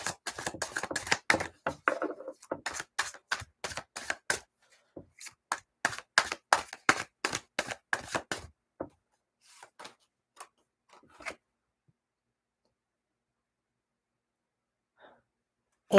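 Tarot cards being shuffled during a live reading: a long run of quick, crisp riffling and tapping bursts in steady rhythm, close and fairly loud, then thinning into a few scattered soft card sounds and near silence.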